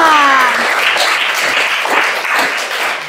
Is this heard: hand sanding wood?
no